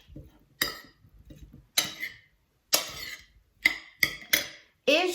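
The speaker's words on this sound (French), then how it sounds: "Je mélange" Spoon stirring seasoned shrimp with lime juice, salt and pepper in a bowl: a handful of separate clinking, scraping strokes with brief pauses between them, close and fairly quiet, with no talking.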